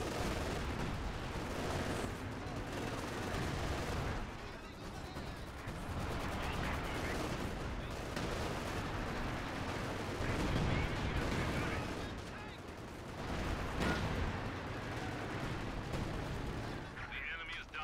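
Artillery shells and gunfire pound a retreat base during a 4v4 Company of Heroes match on the Steppes map, a dense, continuous barrage of loud blasts and shots that swells and dips without pause.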